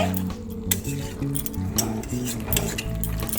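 A chicken liver and gizzard curry with slit green chillies is stirred in a pan, a busy run of spoon scrapes and metallic clinks against the pot over a low steady hum, close up and without talk.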